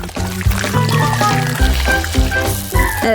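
Sauce pours over cooked macaroni for about three seconds in a continuous glugging, liquid stream, close and fairly loud.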